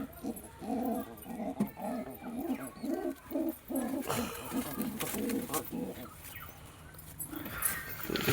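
Pigeons in a loft coo in soft, repeated throaty rolls, with scattered rustles and a few sharper animal sounds mixed in, close and uneven in loudness.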